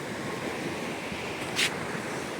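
Ocean waves wash steadily at Dona Paula beach in Goa, a continuous surf roar with wind buffeting the microphone and one brief brighter splash near the end.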